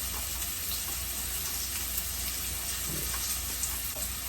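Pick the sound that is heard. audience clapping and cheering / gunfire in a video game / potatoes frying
potatoes frying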